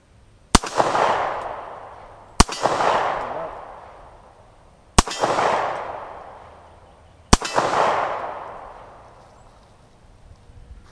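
Four sharp 9mm pistol shots using Wolf FMJ ammunition at an outdoor range, spaced a couple of seconds apart, each loud crack followed by a long rolling echo that fades away.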